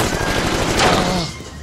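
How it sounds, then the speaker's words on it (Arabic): Rapid gunfire rattles in a busy Egyptian street comedy scene, a dense, loud burst of shots running almost continuously before fading slightly. "أنا سمعت صوت رصاص يا متولي"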